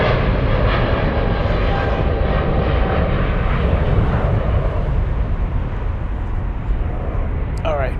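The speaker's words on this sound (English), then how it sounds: "this is Emirates Sky Cargo Flight 9935 and going to Mexico City on a 777 freighter" Emirates SkyCargo Boeing 777 freighter bound for Mexico City, roaring steadily and loud at Frankfurt airport, a broad sustained jet engine rumble filling the whole stretch.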